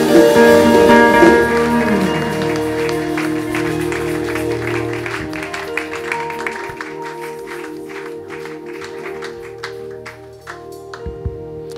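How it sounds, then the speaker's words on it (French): Applause and cheering from a church congregation opening a religious seminar, a loud sustained wash of clapping and voices that slowly thins over about twelve seconds, with faint musical tones beneath. "l'apôtre Martin, qui avance sous vos acclamations."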